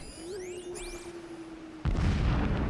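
Thin whistling tones sweep overhead in the video game Horizon Zero Dawn, then a sudden loud blast erupts into a sustained, rumbling roar of explosions.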